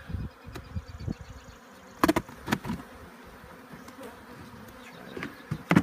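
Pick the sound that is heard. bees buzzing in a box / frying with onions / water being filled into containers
bees buzzing in a box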